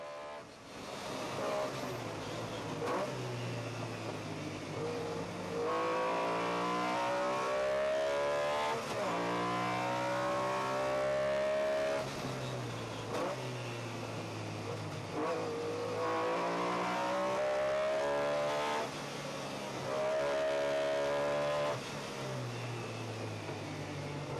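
Rally cars racing flat out on a UK rally stage, engines revving hard and rising through the gears in repeated waves as cars pass, loud and continuous throughout.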